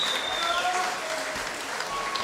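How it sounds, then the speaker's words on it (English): Crowd applause for two heavyweight fighters in the ring at a kickboxing event, a loud continuous roar of clapping and cheering with a few whistles rising above it. "a big applause for these 2 giants, Moreno, Kacapor, and Soufyan Aarab."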